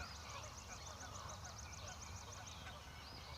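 Goose-like adult birds with a brood of about ten chicks honk and call in a rapid repeating series, over a steady outdoor wind rumble along the Appalachian Trail, moderately distant.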